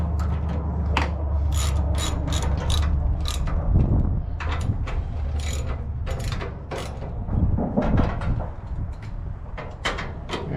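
Ratchet wrench tightening the bolts on new camper steps, heard close up as quick runs of sharp clicking strokes with short pauses between them, and no talk.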